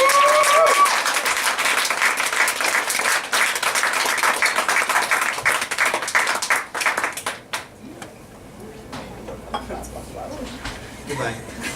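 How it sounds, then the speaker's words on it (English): Audience applause for Kailey at an MFA showcase performance, loud sustained clapping from a crowd that fades out, leaving sparse claps and faint voices. "Big round of applause for Kailey."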